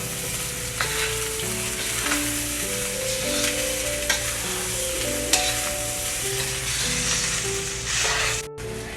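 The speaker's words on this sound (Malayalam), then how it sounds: "നമുക്ക് സ്റ്റിക്ക് കൊണ്ട് ഇതിനെ പയ്യെ ഒന്ന് ഇളക്കി കൊടുക്കാം." Rice frying in a pan being stirred slowly with a stick, a loud steady sizzle with scraping stirs, close and continuous, while music plays underneath.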